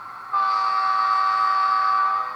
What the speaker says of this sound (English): Horn, of course.